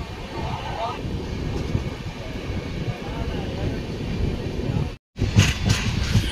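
Saraighat Express running through Assam near Kamakhya, a steady close rumble and clatter of the moving coach with a brief sudden dropout near the end, then thumping resumes.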